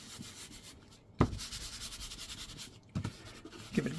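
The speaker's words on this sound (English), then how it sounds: "Give it a good rub." Two sustained rubbing passes on a paper piece from a Victorian sweet shop journal holder kit, a close, dry scratchy friction, with short pauses between the strokes.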